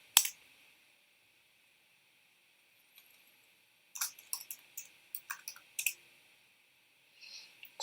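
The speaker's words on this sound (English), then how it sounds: "I'm gonna type service MongoDB start." Sparse clusters of key presses on a computer keyboard entering a terminal command to start a MongoDB service, quiet close clicks in short bursts separated by pauses, no talking.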